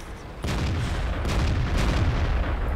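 Tank cannons firing in the World of Tanks video game, with a loud sudden boom followed by continuous heavy rumbling and further muffled blasts, dense and booming throughout.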